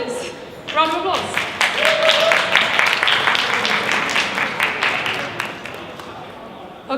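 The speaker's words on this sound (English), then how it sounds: "thank you very much, all the candidates. Round of applause." Audience applauding candidates at a student union election hustings, a dense wash of clapping that swells after a second and holds steady, with a voice speaking briefly at the start.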